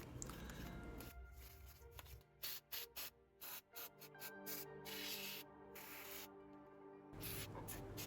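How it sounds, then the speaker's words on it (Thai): Short bursts of degreaser spray hiss in a quick series on an oily Honda Accord engine part, followed by steady rubbing and scrubbing, close and fairly quiet. "ใช้สเปรย์ขจัดคราบนะครับจะขัดคราบน้ำมันนะครับ"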